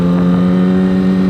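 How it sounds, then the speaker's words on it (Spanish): A Yamaha R1 motorcycle engine pulls hard at high revs, a loud, steady, close-up mechanical whine holding strongly through the brief moment. "Nada más para que se den cuenta del poder de este motor."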